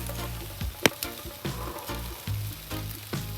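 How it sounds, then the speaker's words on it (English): Food sizzles and fries in a pan at a riverside campsite during a snowy Thanksgiving camp trip, a steady close crackle with a few sharp clinks of utensils stirring. "Sizzling already."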